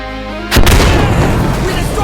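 A Molotov cocktail bursts in a video game, a sudden loud boom followed by a roaring whoosh of flames that lingers and slowly fades.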